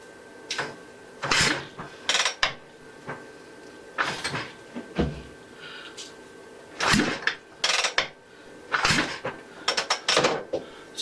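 Norton Commando motorcycle engine kicked over repeatedly by its kickstart, spark plugs fitted: a series of sharp mechanical clunks and ratcheting strokes in irregular clusters, close by, with the engine not firing and no talking.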